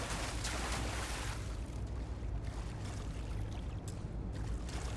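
Water flows continuously in an indoor room of the video game Starfield, a dense, rushing wash with splashy spikes that stays steady and fairly loud the whole time, with no talk.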